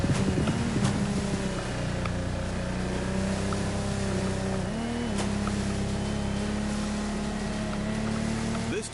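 Offshore racing powerboats, among them a Lamborghini Tecnomar, drone with a loud continuous engine roar, the pitch dipping briefly midway amid water noise.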